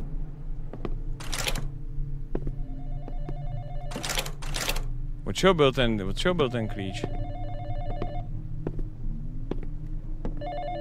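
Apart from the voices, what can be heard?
telephone ringing in the horror video game Exanimum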